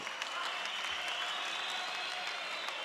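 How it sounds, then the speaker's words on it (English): Sustained applause from a conference audience at the ANC KwaZulu-Natal provincial conference, a dense, steady wash of many hands clapping at fairly close range with scattered crowd noise and no clear speech over it. "we should continue to applaud Comrade Jacob Zuma for declaring free education in South Africa"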